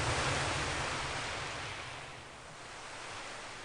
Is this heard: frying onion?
no